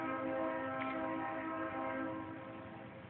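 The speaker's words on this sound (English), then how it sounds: "A loud horn that's blasting." A loud, steady blasting horn rings out in stacked sustained tones over a constant background rumble, holding for the whole stretch and easing off slightly near the end.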